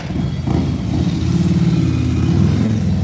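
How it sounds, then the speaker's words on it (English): A very loud scooter engine drones steadily nearby on a Paris street in Belleville, a continuous low motor roar that swells slightly as it passes. "there's a good look at the church that we started at, and a very loud scooter to our right"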